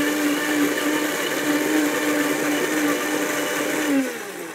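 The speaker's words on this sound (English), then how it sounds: "So in this blender, I put a can of Rotel. And I'm going to put in some cumin, and we are going to blend this until it's smooth." A blender whirs continuously, purée of canned Rotel tomatoes with cumin spinning at a steady high-pitched whine, close and loud, before the motor winds down near the end.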